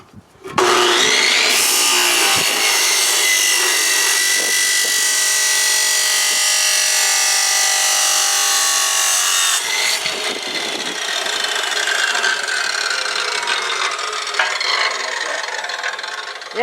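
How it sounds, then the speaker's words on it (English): Scrap pieces of steel I-beam are cut down with a loud, harsh, continuous grinding roar that runs nearly sixteen seconds without a break, changing tone slightly partway through as the cut continues. "we're going to cut them up into little pieces so we can bolt onto here"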